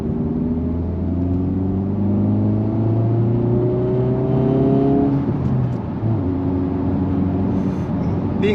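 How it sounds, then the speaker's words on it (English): A manual Honda Civic Type-R FL5 turbocharged engine pulling hard through the gears, its rising drone climbing in pitch, then dropping at each shift with a brief turbo whoosh, heard from inside the car. "you do get that little turbo sound when changing gear"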